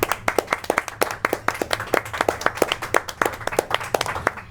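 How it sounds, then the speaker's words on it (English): Audience clapping at the WildStar game launch event in Times Square, sharp distinct claps from a modest crowd, close and fairly loud with an uneven, scattered rhythm. "Please, round of applause."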